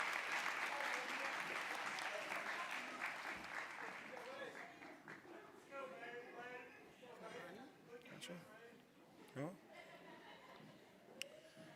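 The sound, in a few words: audience applause at graduation ceremony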